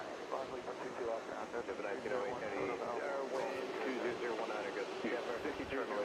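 A Swiss airline jet airliner approaches JFK airport, its engines a faint, distant rumble beneath steady air traffic control radio chatter.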